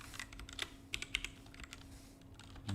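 Rapid, close clicks of a computer keyboard as code is typed in a Unity project. The keystrokes run in uneven bursts with no voices.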